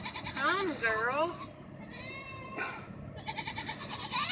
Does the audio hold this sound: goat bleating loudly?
yes